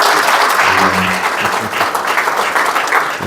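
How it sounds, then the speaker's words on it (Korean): Loud audience applause fills the hall at a talk on Korean tourism and hiking, a dense, steady wash of clapping throughout with a few faint voices mixed in. "박수 한번 칠까요?"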